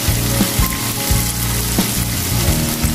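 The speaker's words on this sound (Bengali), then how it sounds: "চিকেনগুলো প্রায় সেদ্ধ হয়ে গেছে। ভালোভাবে নেড়ে চেড়ে নিচ্ছি।" Chicken for kala bhuna sizzles steadily in a pan while being stirred, with a few soft spoon scrapes against the pan over the constant frying, and no voices.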